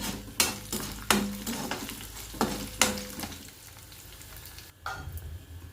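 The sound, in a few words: mustard seeds and dried red chilies sizzling in oil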